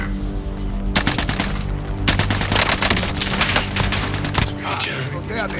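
Rapid video game gunfire rattles in dense automatic bursts, loud and close, with brief pauses between volleys and a dull thud near the end.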